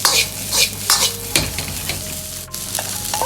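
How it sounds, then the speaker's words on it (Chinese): Drained chicken, shiitake mushrooms and diced green and red peppers tossed fast in a wok with garlic, producing a loud, steady sizzle broken by repeated scraping and clanking strokes of a spatula. "下入控干油的鸡肉和香菇，快速的翻炒几下"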